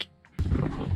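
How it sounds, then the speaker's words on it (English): A deep, rumbling grunt from an alligator in Florida water during mating season, sudden and low, rolling on for about half a second after a quiet start, fairly close with no talk. "we can hear alligators grunting around us"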